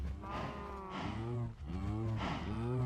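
Cows mooing in the video game Minecraft: several long, low, drawn-out moos follow one another closely, loud and near.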